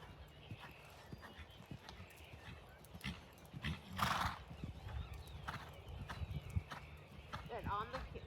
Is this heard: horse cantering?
yes